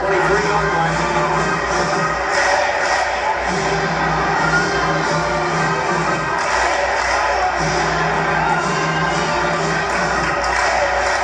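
A large Florida Gators football crowd chants the Gator Bait chant in a packed stadium, a loud, dense and continuous roar of many voices with steady rhythmic swells.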